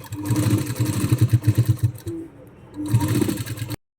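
A sewing machine runs in rapid bursts while topstitching around a Rajputi blouse (kanchli), with a steady chattering rhythm, a short pause in the middle, then another run, close and fairly loud.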